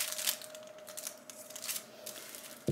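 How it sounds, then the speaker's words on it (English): Scissors snip through the fabric ends of a sewn baby crinkle book, a handful of quiet, crisp cuts in quick succession, close up in a still room. "You're just gonna take your scissors and cut the ends so that there's not really too much bulk in those ends."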